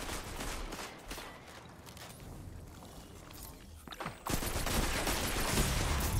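Scout rifle fire in a Destiny 2 multiplayer match, with repeated sharp shots over a dense, noisy game soundscape that grows louder near the end.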